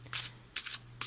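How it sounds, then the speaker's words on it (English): Three quick riffling bursts of tarot cards being shuffled, close and crisp, over a low steady hum. "Let's shuffle the cards"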